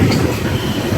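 A Budapest metro train in the subway fills the space with a loud, close rumble of wheels and rail noise, steady throughout with a hint of clatter.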